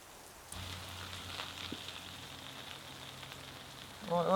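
Heavy rain falls steadily at an outdoor fishery, a dense hiss of drops on surfaces that starts abruptly and continues without pause, with a brief louder patter near the end.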